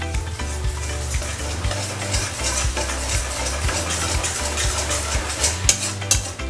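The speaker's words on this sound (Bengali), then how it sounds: "এখানে দেব আমরা অল্প একটু কর্নফ্লাওয়ার এর সাথে আমরা ভাজবো" A little cornflour fries in a pan with a steady, dense sizzle and crackle, while soft stirring knocks and low thumps repeat underneath throughout.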